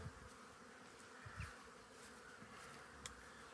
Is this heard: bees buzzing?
yes